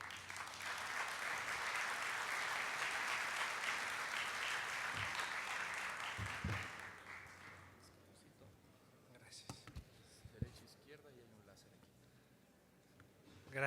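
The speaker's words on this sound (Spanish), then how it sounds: "para el que pido un fuerte aplauso." Strong audience applause at an energy regulatory forum, steady loud clapping for several seconds that tapers off, followed by quieter room noise with scattered knocks and a brief voice.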